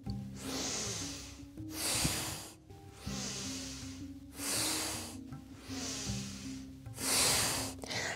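Forceful Bhastrika bellows breathing in a yoga practice: loud, rhythmic nasal inhales and exhales, about seven strong strokes in eight seconds, close and alone without talk.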